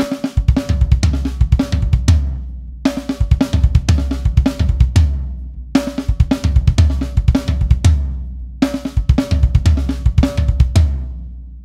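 A drum kit plays the Benny Greb crossover 9-note pattern at a quicker tempo. Four tight, punchy repetitions of kick, tom and cymbal hits run close and loud with brief gaps between them.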